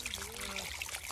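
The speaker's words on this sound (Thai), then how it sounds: "น้ำไหลน้ำไหล" Water trickles and flows outdoors in a rural natural setting, a steady close rushing wash with a voice briefly audible over it.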